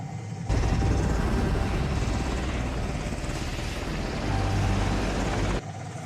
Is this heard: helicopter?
yes